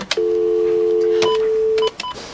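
Phone dialing tones as a mobile number is called from an office: a few short keypad beeps, then a long steady tone lasting under two seconds, then more quick beeps, loud and close.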